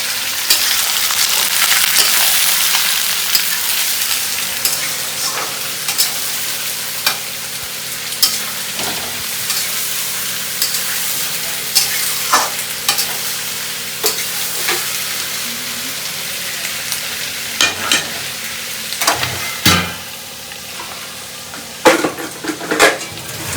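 Onions fry in a pan with a loud, continuous hiss and crackle, broken by intermittent utensil clanks and scrapes against the metal; no one speaks.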